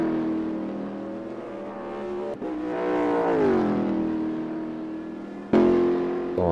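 A race car on the Road America circuit in a 2013/14 winter-season race, its engine whining and revving up and down through gear changes, loud and close, with commentary talk underneath.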